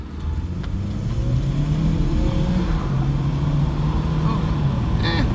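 A 2016 Chevy Cruze with the 1.4-liter engine accelerates on a test drive, its steady engine drone rising gradually under continuous road and tire noise, with a voice speaking over it.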